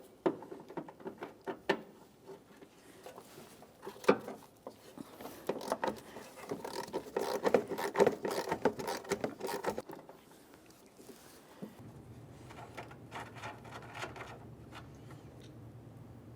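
Control arm bolts on a 2002-2009 Chevrolet Trailblazer being worked loose with a 13mm wrench, a series of close metallic ratcheting clicks and scrapes, then a quieter steady hum.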